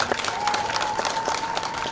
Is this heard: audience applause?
yes